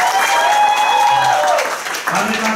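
An indoor audience claps loudly for first-time attendees at a seminar, with dense applause close by, mixed with cheering and shouting voices, fading briefly before a last burst.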